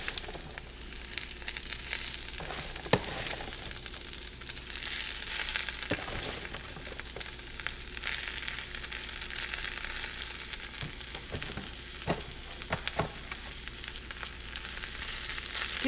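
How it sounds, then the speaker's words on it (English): Steady crackling sizzle of spinach frying in olive oil in a hot cast iron skillet, with a few sharp clinks and scrapes of a utensil stirring throughout. "You hear that little sizzle, you know your pan is hot enough."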